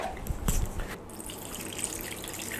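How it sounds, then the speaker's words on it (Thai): Water is poured onto rice in a Quechua MH-500 camping pot, with a few soft splashes at first and then a quiet, steady trickle. "ใส่น้ำลงไปนะครับ"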